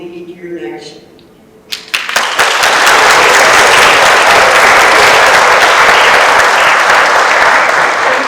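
An audience at a Seminole Nation candidate forum breaks into loud, sustained applause after a brief spoken introduction, the clapping swelling quickly and continuing steadily to the end.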